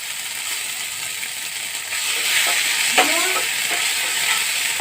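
Two spoons of coconut paste go into a pan of fried green chillies over a low gas flame, giving a continuous sizzle that grows a little louder partway through, with a brief scrape of stirring.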